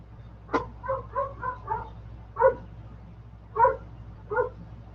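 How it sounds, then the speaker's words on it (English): A dog barking outside at night, seven or eight distinct barks, a quick cluster of four followed by three spaced ones, moderately near over a low steady hum. "I had to see why the dog was barking out there."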